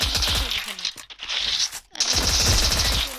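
P90 submachine gun firing in a video game, a rapid automatic burst that pauses briefly near one second and again near two seconds before resuming, loud and close with no talk.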